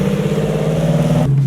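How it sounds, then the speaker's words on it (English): A manual Nissan 370Z engine holds a loud, steady rev close by, then drops off abruptly near the end. "So we were revving the car."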